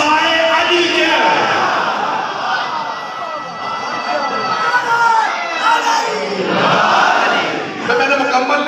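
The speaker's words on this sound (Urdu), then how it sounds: "آپ نے نعرے بھی لگا دیا" A large crowd at a religious gathering in Islamabad chanting slogans together, loud surging voices that rise and fall in waves, with one burst near the start and another toward the end.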